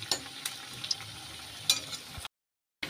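Raw banana pieces fry in oil while being stirred, a soft sizzle broken by a few light scraping clicks, close and fairly quiet, ending in a brief silence.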